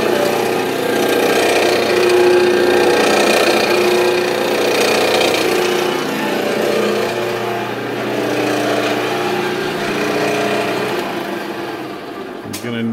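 A G0709 lathe runs at 300 rpm with a loud, steady mechanical whine and engine-like hum, close and continuous, easing slightly toward the end.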